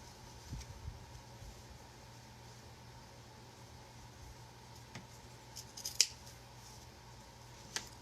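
Scissors snip through thin metal strips for a home decor tray, giving a few faint, sharp clicks spread over a quiet room with a low steady hum beneath.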